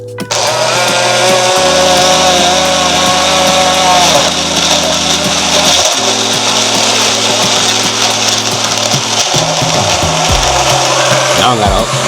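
A blender whirs loudly, blending a coconut, mango and pineapple smoothie, its motor pitch stepping and shifting as the mix thickens over about twelve seconds, close and steady with no talk over it.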